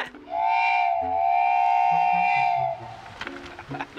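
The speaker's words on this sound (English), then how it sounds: "Did you hear the ghost train?" One long, loud train whistle blast rings through a Myra Canyon tunnel, said to come from a ghost train. It holds steady for about two seconds, then fades into scattered lower tones.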